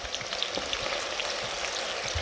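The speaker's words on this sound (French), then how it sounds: "Je vais mettre mes oignons à rissoler." Onions browning in a pan give off a dense, continuous crackling sizzle, close and even, with no voices over it.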